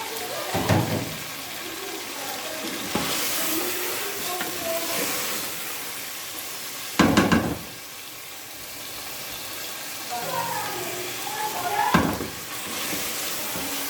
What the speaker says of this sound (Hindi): हमने अच्छी तरह चिकन को भूनना है